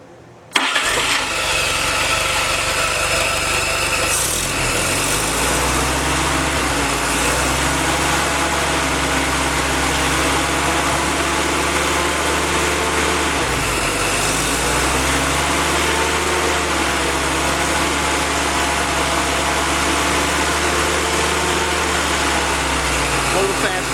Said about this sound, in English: Okay, cold start on Gary's engine